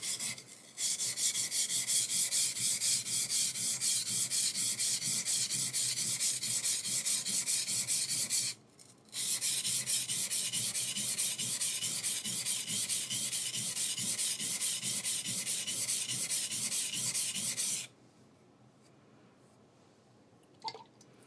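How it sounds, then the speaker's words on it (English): A skiving knife is sharpened on a stone, with a steady, close rasping rub of metal on stone in long continuous strokes, a brief pause midway and a stop near the end. "Now, as you're sharpening, you always check the bevel side where you're sharpening."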